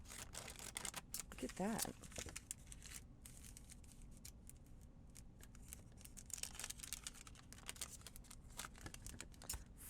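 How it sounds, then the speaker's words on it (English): Deckle edge scissors snip through a sheet of baking paper in a quick run of crisp cuts, close up, while a person talks over the cutting. "I wonder if my deckle edge scissors will cut it"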